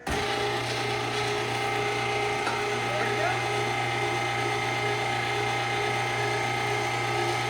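A number 32 meat grinder with a 1.5 horsepower motor runs continuously up close, giving a loud, steady mechanical whine and hum with no pause.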